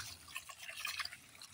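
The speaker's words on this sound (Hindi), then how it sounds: "थोड़ा सा इसमें और पानी डालेंगे" Water added to a homemade fertilizer tonic soaking in a container for bougainvillea, a soft close splashing and dripping trickle, fairly quiet and steady with small bursts, no voices.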